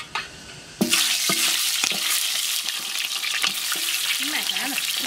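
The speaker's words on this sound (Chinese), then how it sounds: "现在不要太大火，火小小一点。 现在已经炒出来黄色了。" Pig trotters stir-frying in a wok over lowered heat, a loud close sizzle with repeated metallic scraping strokes of the spatula, with brief voices in the background.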